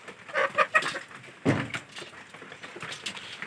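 Domestic chickens cluck in a few short bursts early on, followed by a single sharp knock near the middle and a faint background of bird sounds and rustling after that.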